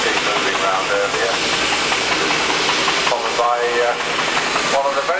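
A Fowler B6 heavy haulage steam traction engine gives off a steady hiss of steam over a low mechanical rumble, loud and continuous, with voices faintly mixed in.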